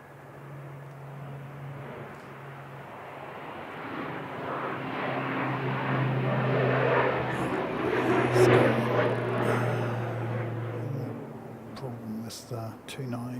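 A light aircraft takes off from runway 29, its propeller engine droning as it builds up and swells in loudness before fading a little, with a voice talking nearby.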